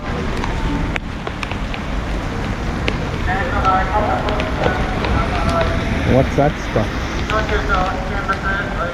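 Heavy rain falls steadily at a professional baseball stadium in Japan, a constant broadband hiss that runs the whole time beneath a person talking.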